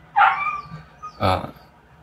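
A dog in the background gives two short yips about a second apart, fairly close and distinct against a quiet room.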